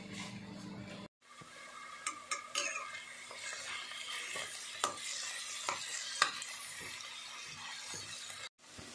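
Food sizzles and fries in a pan outdoors in Sloviansk while a utensil stirs and scrapes it, with clinks of metal against the pan; steady hiss under scattered knocks, no talk.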